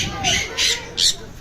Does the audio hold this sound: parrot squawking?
yes